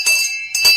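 A small metal goat bell shaken twice, bright ringing tones with a short gap between strikes, close and fairly loud, no talking.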